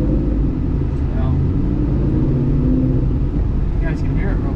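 A Ford Mustang running with a full exhaust system, giving a loud, steady, close-up low rumble that holds without a break from start to finish.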